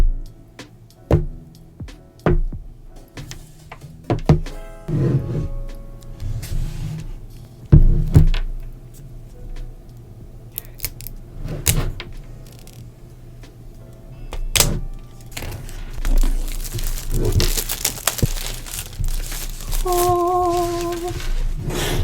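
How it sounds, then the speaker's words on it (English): Unboxing of an iPad Air 4 and Apple Pencil: intermittent close crinkles, thunks and tearing of packaging, with handling noises and a few soft taps, no talking. "let's unbox the iPad and the pencil."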